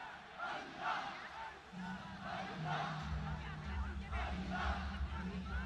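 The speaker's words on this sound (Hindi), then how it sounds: "किस तरह से अल्लाह अल्लाह की पुकार है" A large crowd at the Wagah border flag-lowering ceremony chants in loud, rhythmic surges, repeated shouted calls rising over a steady roar with a low droning hum underneath.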